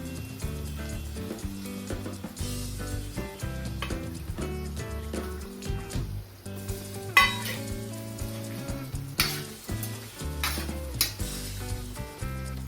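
Stuffed brinjals packed with masala frying in a pan, a steady sizzle with stirring and utensil clatter running throughout, fairly loud and close, with no talking.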